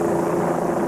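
Steady whirring rotor and engine drone of a helicopter over the scene of a school shooting at Columbine High School in 1999, continuous and fairly loud with no talk.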